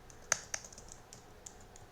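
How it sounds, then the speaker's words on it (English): A few sparse keystrokes on a computer keyboard, typing a search for Geometry Dash texture packs into a browser, with one sharper click near the start and quieter taps after, faint and alone. "Then you want to type in geometry dash texture packs."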